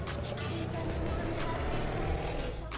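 A truck in a truck-driving video game downshifting from third to second gear: a continuous low engine drone with shifting harmonics as revs change, steady and close throughout, with a voice talking over it.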